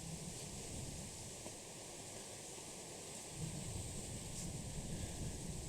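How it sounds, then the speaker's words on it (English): Strong wind whipping along the bank of the St. Johns River, a steady broadband rush with low buffeting rumble against the microphone that swells louder toward the end, with no talk. "the wind is whipping"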